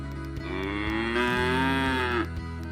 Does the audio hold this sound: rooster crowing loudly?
no